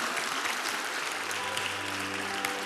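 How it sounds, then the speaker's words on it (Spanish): A congregation claps together during a religious gathering, a dense, even round of applause filling the whole stretch, with a faint low hum underneath. "Dele un aplauso al Señor nuestro Dios Todopoderoso."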